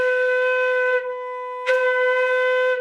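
A single clear, steady flute note, a B, held for about a second, then a brief pause before a second breathy attack on the same pitch sustains again.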